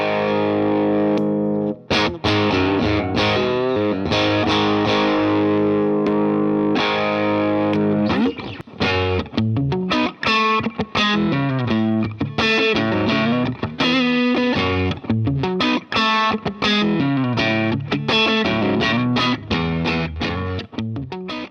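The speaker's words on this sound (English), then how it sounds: "I love the sound of a harsh compressor going into a Vox AC30." Electric guitar played through a Keeley C4 compressor into a Vox AC30 amp, bright, punchy picked notes and chords with a squashed, harsh, sustained tone, loud and continuous, no talking.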